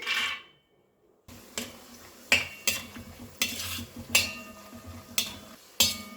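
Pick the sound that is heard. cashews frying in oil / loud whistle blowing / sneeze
cashews frying in oil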